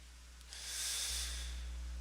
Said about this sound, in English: Excuse me, that was my girlfriend sneezing.